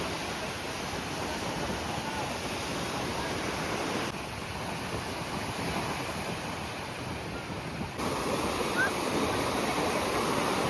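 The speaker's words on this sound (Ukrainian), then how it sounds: "Море штормить сьогодні." Stormy Black Sea surf at a Chornomorsk beach, a continuous loud roar of breaking waves mixed with wind buffeting the microphone.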